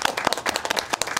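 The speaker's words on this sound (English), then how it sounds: "let's give them a round of applause" Applause at a town Board of Education meeting in Enfield, Connecticut, a short burst of close, crisp hand claps from a modest group in a rapid uneven patter.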